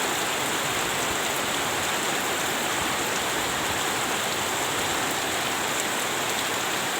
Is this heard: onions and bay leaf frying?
no